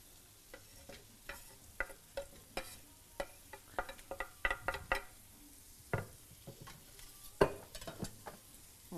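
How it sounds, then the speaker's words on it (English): Garlic, chorizo and onion scraped into a pan for an omelette sizzle softly while a utensil stirs and taps against the pan in irregular scraping clicks, close by and with no talking. "Let's just scrape all our ingredients in. Our garlic,"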